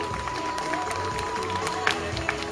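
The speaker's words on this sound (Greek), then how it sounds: "Δώστε χειροκρότημα σε όλα τα παιδιά." An audience at a souvlaki-eating contest in Vlachos, Serres claps briefly, scattered hand claps over a low crowd murmur, moderately close.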